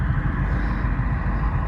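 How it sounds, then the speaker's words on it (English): Cars passing on a dark Bristol road at night give a steady, low traffic rumble, moderately loud, with no distinct single pass-by standing out. "Oh, we've got loads of cars."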